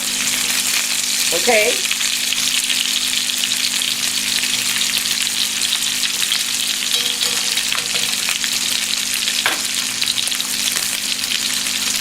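A beef top sirloin steak sears in a pan of butter and oil, giving a steady, loud sizzle and crackle throughout, with a brief spoken word near the start.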